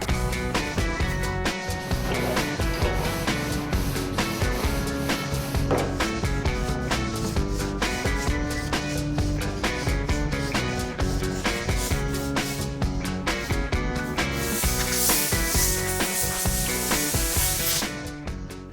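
A sanding block with 180-grit paper rubs steadily over primer on a panel of a 1972 Chevy Chevelle, a continuous close scratchy hiss with rhythmic strokes and no pauses.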